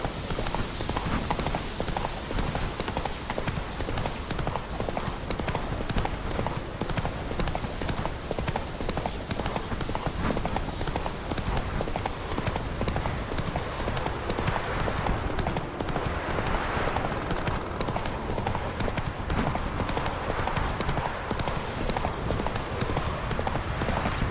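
Roach, Geralt's horse in The Witcher 3: Wild Hunt, gallops steadily, with rapid, continuous hoofbeat clip-clops close by throughout, loud and unbroken.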